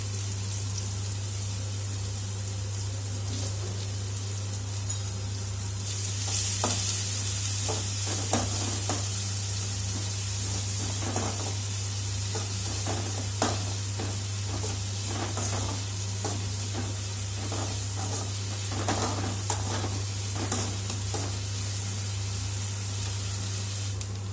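Finely chopped onions sauté in hot oil for a prawn gravy with a constant loud sizzle that grows stronger partway through. Close spatula scrapes and stirs sound repeatedly over it, and a steady low hum runs underneath.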